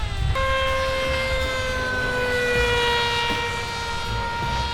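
The Specter aircraft's engine drones in flight in a video game, a loud, steady tonal whine whose pitch drifts slightly, with no talking.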